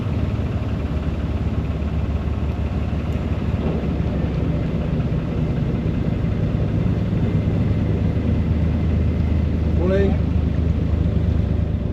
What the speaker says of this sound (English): There's a boat coming up, so that's handy